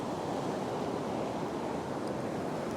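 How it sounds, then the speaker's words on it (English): Ocean waves break near the shore while sets of big waves come in, making a steady broadband roar of surf, loud and continuous, with possible wind noise and no voices. "There's a bit of a group of big waves coming at the moment."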